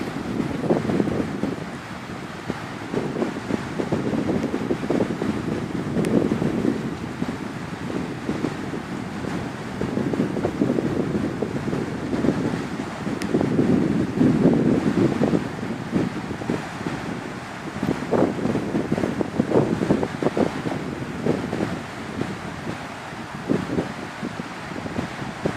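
Sea waves and wind on a Danish shore where someone is about to jump into the water, a steady loud rush of surf with gusty wind buffeting the microphone throughout, rising and falling in broad swells.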